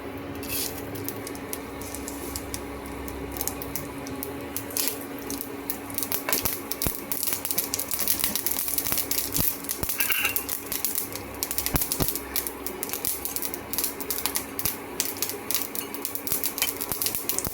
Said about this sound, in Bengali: 2টো শুকনো লঙ্কা ফোড়ন দেব, আর একটু সর্ষে ফোড়ন দেব।